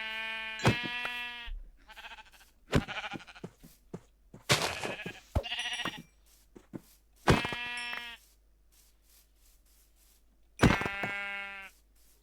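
Sheep in Minecraft bleat several times, loud and close, in separate calls with quiet gaps, the cries sounding clean and synthetic.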